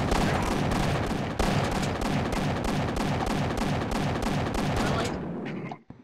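Sustained rapid automatic gunfire in a shooter video game, loud and dense with evenly repeating shots for about five seconds, then cutting off abruptly into near silence.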